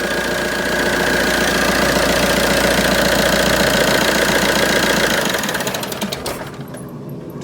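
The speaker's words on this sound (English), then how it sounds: "I never really listened to the engine note of my Doblo" A Fiat Doblo engine runs loud and close with a rapid, even mechanical chatter and low hum, holding steady before the note drops and the running turns rougher and uneven near the end.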